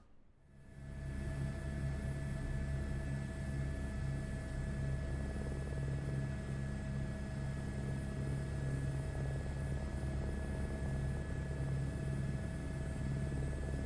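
Helicopter rotor and turbine hum from Microsoft Flight Simulator 2024 spools up in the first second, then holds a steady, even drone with a low rhythmic thrum throughout.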